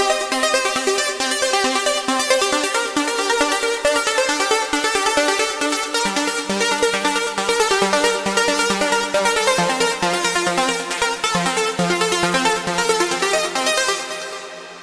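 Trance-style synth lead, a bright, buzzy line of rapid, evenly pulsing notes that shifts pitch every couple of seconds, loud and continuous without any talk.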